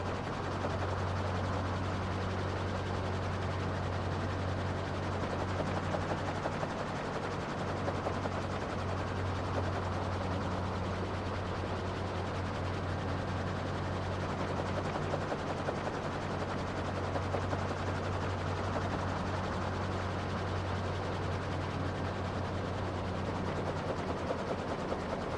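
Steady helicopter rotor drone with a low rumbling hum in Microsoft Flight Simulator 2024, a continuous loud whir that holds unchanged throughout, with no talk over it.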